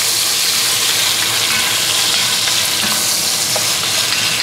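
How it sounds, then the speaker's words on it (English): Bacon for boeuf bourguignon sizzles and crackles in a hot frying pan, a loud, steady hiss with scattered pops and no talking. "I can hear the sizzling"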